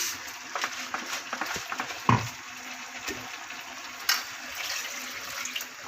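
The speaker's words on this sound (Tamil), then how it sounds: "இப்போ நமக்கு எந்த அளவுக்கு தண்ணி வேணுமோ அந்த அளவுக்கு சேர்த்துக்கலாம்" Water splashes and pours steadily into a pot of country chicken curry, a soft continuous gush with a few light clinks, close by and fairly quiet.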